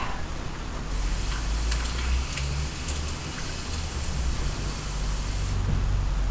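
Tap water runs into a bowl in a home kitchen, a steady hissing, splashing stream that starts abruptly, holds evenly for about five seconds, then cuts off.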